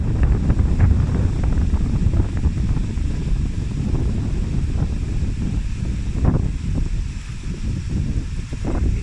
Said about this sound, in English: It was windy and it was absolutely pouring down